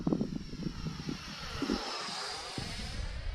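An Arrows RC Marlin 64mm PNP electric ducted-fan sport jet model flies past, giving a steady, airy whoosh and whine that holds at a fairly even level throughout.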